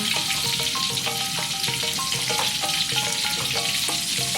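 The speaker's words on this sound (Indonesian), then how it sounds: "santan kita sudah mendidih" Coconut milk boiling in a pot for a chicken gulai korma curry, a steady, loud bubbling sizzle with rapid popping bursts throughout, no voices.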